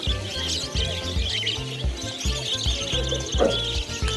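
Caged birds for sale at a Kolkata bird market keep up a busy stream of overlapping chirps and tweets, fairly close and continuous over a low background hum.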